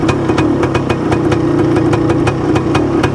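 A 1978 Yamaha DT400E motorcycle engine runs close by at a rough, uneven idle, bogging with a loud, steady throbbing and regular pulsing beats.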